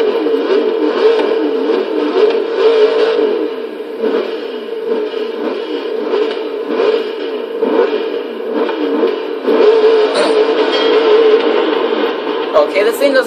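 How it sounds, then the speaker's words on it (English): A V8 engine in the 1992 Hoonigan Mazda RX-7 Twerkstallion in Forza Horizon 3 drones and revs continuously, its pitch wavering up and down at a fairly steady, close, loud level throughout. "Wait a minute, that's not a rotary, that's a V8."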